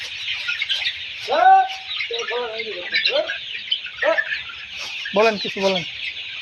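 Layer hens about 35 days old cluck and squawk in bursts during a fowl pox vaccination on a poultry farm, close and loud over a steady background hiss, while someone talks intermittently.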